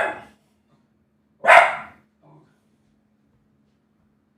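A dog named Peanut barks indoors, a couple of sharp close barks separated by silence, with a faint low tone in the background.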